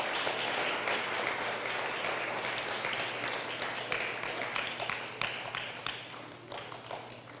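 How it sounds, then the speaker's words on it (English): Audience applause at a press conference, a dense wash of clapping that holds steady and then slowly thins and tapers over several seconds. "Would you join me in giving a big round of applause to Nationwide for all that they do"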